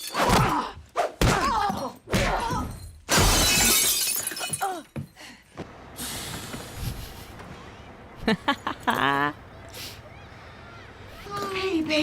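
Glass shatters in a scene from the film Kill Bill Volume 1, loud crashing breaks and thuds mixed with heavy speech and other scene sounds.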